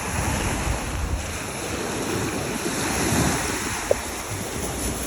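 Loud, continuous surf roars with heavy wind buffeting the microphone, a steady rush of breaking waves with no voices.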